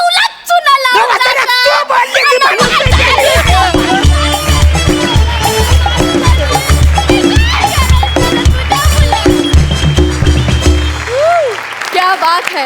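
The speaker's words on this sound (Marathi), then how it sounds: "वा जोरदार टाळ्या" An audience at a Marathi comedy show breaks into loud, sustained clapping, mixed with a pounding music beat and a voice talking over it.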